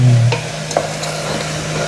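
Fish curry gravy with squid sizzles and sautés in a pan, a spoon scraping and stirring through it in short strokes over a steady frying hiss, close and fairly loud with no talking.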